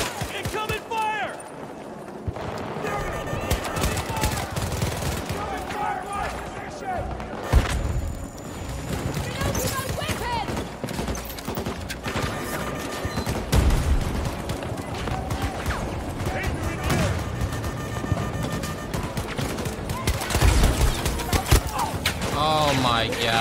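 Dense, continuous gunfire and explosions on the Hourglass map of the video game Battlefield 2042, with sustained volleys and occasional booms under excited voices talking over the din.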